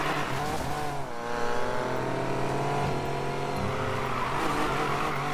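Race car engines in the video game Need For Speed Payback, with DLC cars, roar steadily throughout. The revs rise and fall through gear shifts, and tires squeal now and then.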